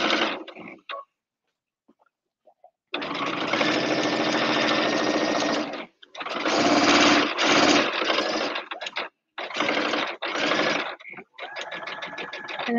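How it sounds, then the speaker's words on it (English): Domestic sewing machine stitching a quilted apron, running in loud close bursts of rapid steady whirring and needle chatter, separated by short pauses and silent gaps, with a brief stop and restart between stretches of sewing. "I'm going to reverse stitch the first couple of stitches at the start and start sewing."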